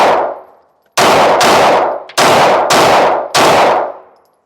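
Several loud gunshots from a Ruger pistol firing Buffalo Bore Adrenaline 115 grain ammunition ring out, one then a rapid string of five, each with a sharp crack and echoing tail.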